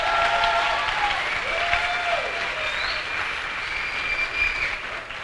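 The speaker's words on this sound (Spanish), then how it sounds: "¿Cuánto le dan un fuerte aplauso a Jesús?" Loud, sustained applause from a church congregation at a Spanish-language service fills the space evenly, with some high cheering voices over the clapping, which continues without a break throughout.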